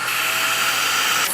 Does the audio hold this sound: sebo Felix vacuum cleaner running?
yes